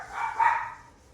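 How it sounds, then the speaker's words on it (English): Dogs barking indoors in a home, a short muffled burst of one or two barks, mid-distance and moderately loud. "my dogs think they hear somebody coming"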